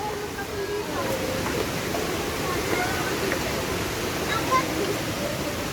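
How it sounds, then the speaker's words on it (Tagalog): The Hidden Falls of Kambal Busay in Bulusan, Sorsogon, a steady broadband rush of falling water filling the whole stretch at a constant loud level. "Welcome to the Hidden Falls of Kambal Busay."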